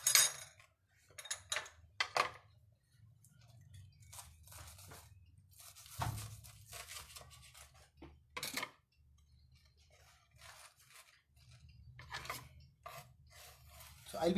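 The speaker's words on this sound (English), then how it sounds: "Make sure your knife should be sharp so that it won't mess up, it will cut nicely." A sharp knife slicing through crispy katsu on a board, giving several separate crunchy cuts and clacks of the blade against the surface, with quiet gaps between them.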